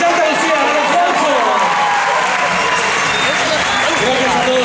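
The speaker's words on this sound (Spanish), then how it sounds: "¡Un aplauso!" A crowd at the Just Funk 2012 event in Santa Lucía breaks into sustained, dense applause that stays loud and even throughout.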